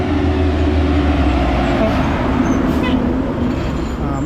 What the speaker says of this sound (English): You can hear you hear this truck coming down the road here all day long.